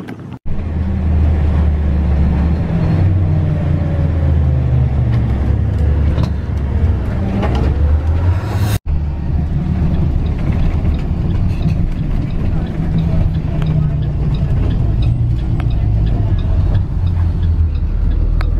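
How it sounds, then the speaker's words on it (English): A bus ride: a continuous low engine rumble and road noise fill the cabin throughout, with rattles and mechanical clicks and faint voices in the background. "Guys, so I just got off the bus."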